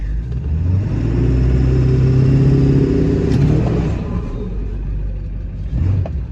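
A 7.3 Powerstroke diesel truck engine revs hard during a boosted launch, a loud, deep rumbling roar that builds and holds for several seconds, then eases off into a lower idle rumble with a brief rise near the end.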